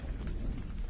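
Heavy rain pouring with a low rumble of thunder beneath it, a dense steady wash of downpour close and continuous for a brief moment, no voices.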